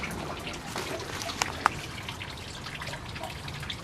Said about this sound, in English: the water's spilling in from the ground